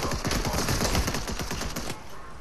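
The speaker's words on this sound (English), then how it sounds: "Did someone just shoot at us?" Fast automatic gunfire aimed at the player in Fortnite, a close, continuous rattling burst lasting a couple of seconds before trailing off.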